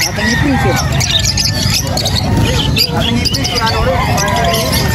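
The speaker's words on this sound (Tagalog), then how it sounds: "200 each sa mga parakits ni Chef ni Boss Gilbert." Parakeets squawk and chatter in shrill bursts at a busy pet market in Angeles City, with people talking close by over the birds and the noise staying dense throughout.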